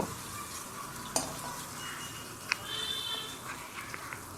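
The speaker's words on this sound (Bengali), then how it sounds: "এর মধ্যে আমি মশলাগুলো ফোড়ন দেব" Whole spices, namely a bay leaf, cumin and whole garam masala of cinnamon, cardamom and cloves, hit hot oil with a soft, steady sizzle and a few sharp clinks of a utensil against the pan.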